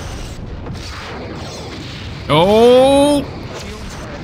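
In a Star Trek starship battle game, a sudden loud synthetic weapon blast flares for under a second amid background sound effects, and a voice exclaims just before it.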